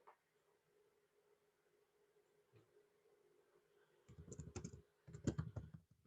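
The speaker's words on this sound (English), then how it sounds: "I'll type for you." Quiet, close keystrokes on a computer keyboard, a few isolated taps at first, then two dense bursts of rapid typing with a short pause between them.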